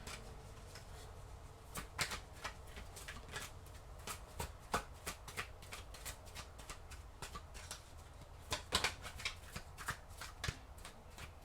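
Tarot cards are shuffled by hand, a quiet series of irregular riffling flicks and soft slaps close to the microphone, with no talking.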